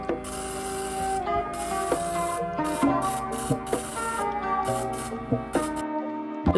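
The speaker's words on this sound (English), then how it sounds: "It's supposed to come out the nozzle of the airbrush smooth the entire time, but instead it's coming out in bursts of paint." An airbrush sputters paint in uneven bursts instead of a smooth stream, making irregular hissy spurts and short gaps that stop shortly before the end.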